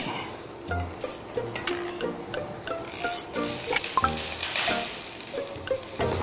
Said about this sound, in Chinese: 直接把八角和大葱一起放进去。